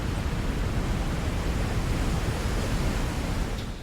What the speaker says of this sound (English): You can hear lava falls long before you get to it.